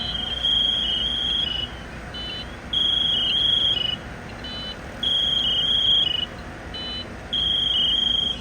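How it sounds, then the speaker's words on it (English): A firefighter's PASS alarm at an e-bike fire sounds in regular repeating bursts of high, shrill electronic chirping about every two seconds, fairly loud over a steady background hum, with no voices. "That chirping noise that you guys hear, you always ask, that's the pass alarm for firefighters in case they become trapped or injured in a fire."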